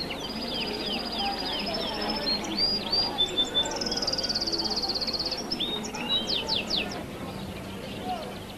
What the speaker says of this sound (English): wherever you go, you can hear bird songs